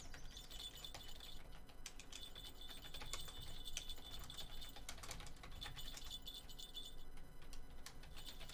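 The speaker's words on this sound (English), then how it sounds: "I'm sitting here typing" Clicky computer keyboard typing in rapid bursts during a Russian Fishing 4 session, close and fairly quiet, with steady background hum and a faint tone.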